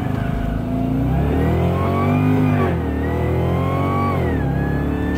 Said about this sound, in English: Listen, Tyler, the only whine I'm hearing is from under the hood.